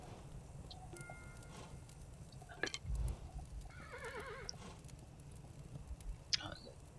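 A horse in the Kingdom video game gives a faint, brief whinny amid soft ambient game sounds and a few light chimes, with no one talking over it.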